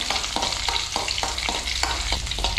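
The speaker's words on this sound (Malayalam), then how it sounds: "ഇനി അരിഞ്ഞു വെച്ച ഉള്ളി ചെറിയ ഉള്ളി ഇട്ട് കൊടുത്ത് ഇളക്കാം വഴറ്റിയതിന് ശേഷം" Chopped small onions (shallots) are stir-fried in a pan of hot oil after mustard seeds have popped, with a steady sizzle under regular spatula scrapes about twice a second, close and fairly loud.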